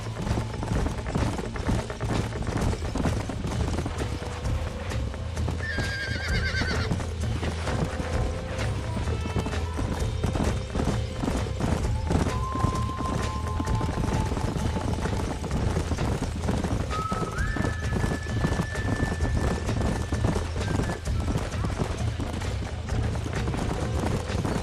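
Horses trot along in Red Dead Redemption, their hooves clip-clopping in a steady rhythm under game ambience, with occasional whistle-like tonal sounds over a constant low rumble.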